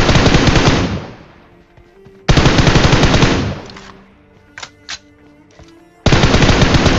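Bursts of M762 assault rifle fire in a PUBG-style shooter game: three long, loud sustained automatic volleys separated by pauses, with a couple of short sharp pops in the gap.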